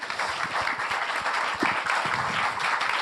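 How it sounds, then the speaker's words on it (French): A conference audience applauds the speakers at an industry sector plan meeting, a steady wash of many hands clapping, moderately loud and close, lasting throughout without voices. "Merci beaucoup, on peut vous applaudir."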